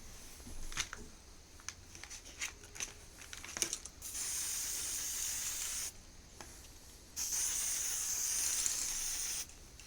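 An aerosol spray paint can coats a saxophone, with bursts of near, loud hissing spray, two sustained blasts of several seconds each, preceded by scattered clicks and rustles.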